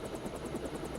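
Helicopter in the video game Deus Ex at a rooftop helicopter base, its rotor chopping in a fast steady rhythm over a low engine drone, constant and moderately loud throughout.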